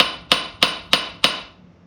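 A blacksmith's hammer strikes an anvil four times at a steady, even rhythm, each blow bright and ringing before it fades. The strikes are close and loud, with no talking.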